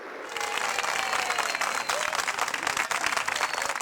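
Staff at Peru's health ministry applaud the departing minister Víctor Zamora, a dense burst of crowd clapping that starts suddenly and stays steady, with some voices mixed in.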